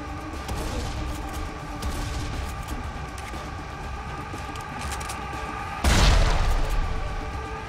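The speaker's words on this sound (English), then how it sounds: "That's a nice explosion." Video game explosions in Serious Sam 3: BFE rumble under a dense layer of gunfire and action noise, ending in a sudden loud blast that fades out over the last seconds.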